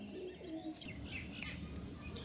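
Giribaj pigeons coo softly and steadily at close range, a low throaty murmur with a few higher chirps over it, quiet and with no talk.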